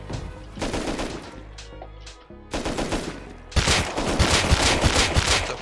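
Rapid automatic gunfire in the online survival game Rust, loud and continuous in sustained bursts, with a short gap before an even denser stretch of shooting.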